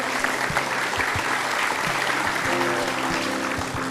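A television studio audience at a talk show claps steadily for several seconds, a dense and even wash of applause with no break, while a faint voice murmurs beneath it.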